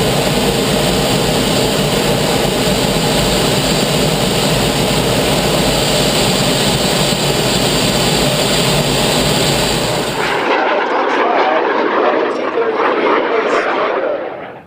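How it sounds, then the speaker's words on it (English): Lockheed T-33 jet making a topside pass at the Abbotsford airshow, a loud steady jet roar filling the first ten seconds before abruptly cutting to a quieter, thinner rush. "It looks like he's going to do a topside pass as he brings the aircraft."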